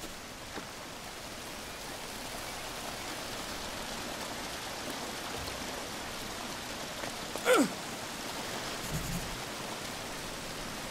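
Steady rain falling in the jungle survival game Green Hell, a dense continuous hiss of drops close around, with a brief soft thump partway through and no one speaking.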